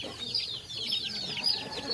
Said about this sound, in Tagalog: Maliliit na manok.